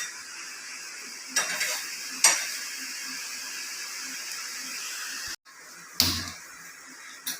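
Ash gourd frying in a pot with a whole green chili, a soft steady sizzle broken by three sharp scraping stirs of a spoon against the pot, close and fairly quiet, with no talking.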